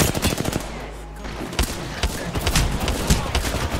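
Rapid gunfire from the video game Apex Legends, dense bursts and single shots crackling throughout a busy firefight, loud and close with constant clatter.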